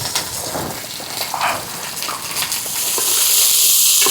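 Onions fry in a pan over an outdoor village cooking fire with a loud, close sizzle and hiss, mixed with scraping and stirring clatter; the sizzle swells toward the end.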